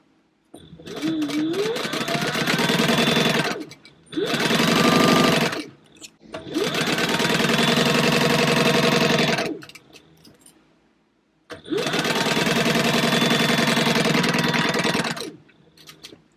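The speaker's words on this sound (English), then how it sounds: "I'm going to stitch down my seam allowance on both sides" A sewing machine stitches down the seam allowance on a purse, running in four loud, steady bursts separated by brief pauses.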